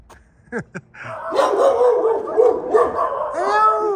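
Guard dog at a scrap pile gives two sharp barks, then a long whining howl with yips and whimpers, loud and close.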